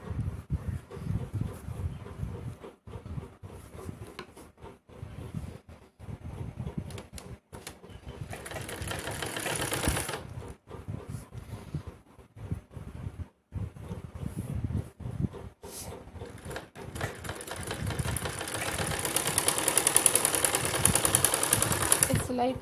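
A sewing machine runs close by in bursts of rapid stitching along a blouse seam, stopping and starting repeatedly, with someone talking between and over the runs.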